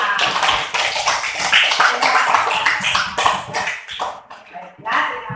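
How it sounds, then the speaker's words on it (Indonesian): A classroom group claps together during a lesson. The sharp, uneven claps are close and loud for several seconds, then thin out into a few scattered claps, with voices mixed in. "tepuk tangan."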